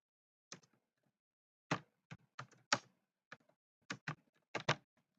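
Quiet bursts of keystrokes on a computer keyboard while filling in a PDF form, clustered taps separated by short pauses, close and soft with no talking.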